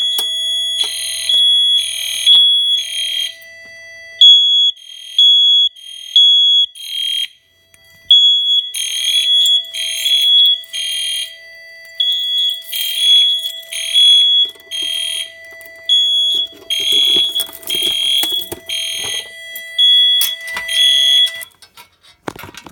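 An EST Genesis horn and a System Sensor MHW fire alarm sound together in loud, shrill, pulsing bursts with a steady tone underneath, repeating for about twenty seconds before cutting off.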